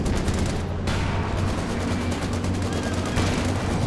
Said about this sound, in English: There we go, another Walking Stuka barrage, triple AT guns.